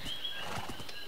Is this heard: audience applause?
no